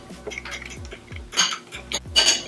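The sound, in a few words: whisking eggs and milk into egg wash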